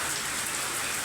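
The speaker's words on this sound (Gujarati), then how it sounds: "હા નેવા ચાલુ થઈ ગયા જો." Steady rain runs off roof eaves in a continuous, even hiss that holds at the same level throughout, with no voices.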